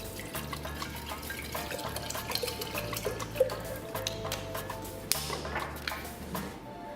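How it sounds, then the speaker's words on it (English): Water runs and trickles steadily into a container with apple cider vinegar, with small drips and splashes over a constant liquid wash, no voices present. "Then you're going to add some water."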